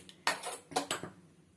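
Metal pan set down on a stove, a few close clanks and scrapes of cookware in quick succession, then fading quiet.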